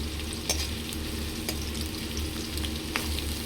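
Oil sizzles steadily in a pan for a cashew chicken curry, a dense close crackle with a few sharp ticks and spoon scrapes, no voices.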